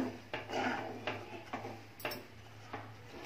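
A spoon stirring thickening milk mawa in a cooking pot, giving soft scraping strokes against the metal at an irregular rhythm, close and quiet with no talk.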